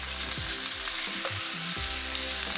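Onions and garlic cooking in a pan beside mudfish, with a steady close sizzle running throughout and some low tonal background sounds beneath it, and no talk.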